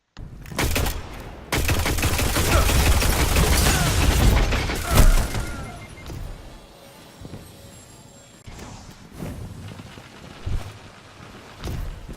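The Loquitor IV firing in a Destiny Crucible match, a loud rapid burst of heavy shots for several seconds followed by sparse single shots and impacts, close and harsh.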